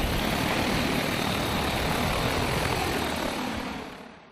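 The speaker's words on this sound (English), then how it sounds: "Drones or remotely piloted aircraft systems were used to show how it could be used in different emergencies" Remotely piloted drone flying during an emergency demonstration at the County of Simcoe Administration Centre, a loud continuous whirring roar that holds steady close by, then fades away at the end.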